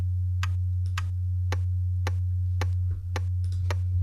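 A hand clock ticking, pitched down with a frequency shifter, gives sharp, regular ticks about every half second over a loud constant low hum, with a few softer ticks between them and no talking.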